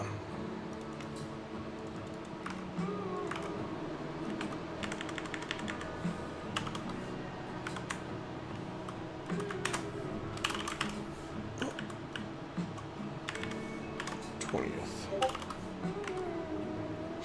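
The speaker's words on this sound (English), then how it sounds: "We're just kind of typing up some of the crap we have to type all the time every week ahead of time." Rapid clicking of keys on a computer keyboard, an uneven run of quick taps with short pauses, fairly close and quiet, with faint voices in the background.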